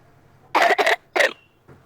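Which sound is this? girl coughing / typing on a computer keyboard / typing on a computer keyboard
girl coughing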